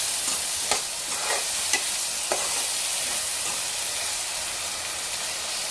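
Sprouted bean and tomato curry sizzles steadily in a pan, with a few scraping stir strokes early on over a constant hiss, close up.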